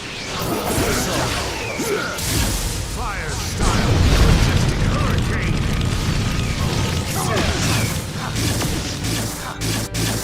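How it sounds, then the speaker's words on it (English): A fire-style jutsu blast in Naruto Ultimate Ninja Storm 4 during a Madara versus Hashirama fight, a dense roaring boom with whooshing bursts that swells midway, with character voices talking throughout. "Fire style. Majestic hurricane."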